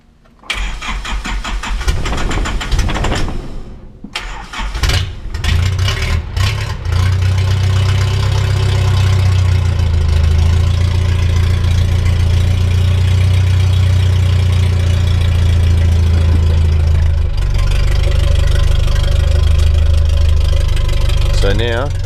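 After a clutch replacement, a car engine cranks and catches with a loud burst, then settles into a steady, close, rumbling idle; someone talks briefly near the start.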